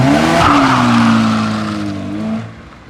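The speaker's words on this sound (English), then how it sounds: "I'm trying to do a burnout, guys." A Volkswagen Jetta attempts a burnout, its tires giving a loud, sustained squeal over the engine for about two and a half seconds before fading.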